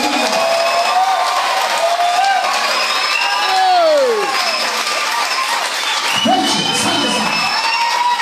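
A church congregation at a Sunday service applauds and cheers steadily, with clapping and scattered whoops filling the room throughout.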